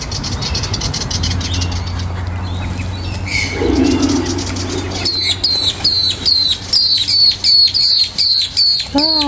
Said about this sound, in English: Look at the little bird.